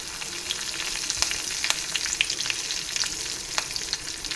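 Curry leaves and spice-stuffed tomatoes fry in oil seasoned with mustard seeds and asafoetida, a dense continuous sizzle with scattered crackling pops, close up and without voices.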